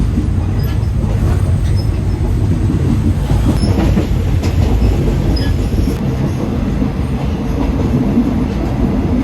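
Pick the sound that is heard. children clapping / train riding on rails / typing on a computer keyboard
train riding on rails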